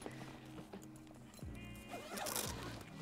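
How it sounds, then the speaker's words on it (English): A zipper is drawn open along the front panel of an iRocker inflatable stand-up paddleboard bag, giving a run of quick, close, scratchy ratcheting rasps that grows denser toward the end. "And then once you unzip"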